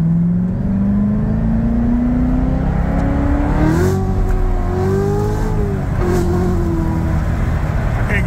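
A Corvette Z06 with an MGW shifter accelerates hard, its engine note rising steadily in a continuous loud drone heard from inside the car, dipping briefly as it shifts and then climbing again.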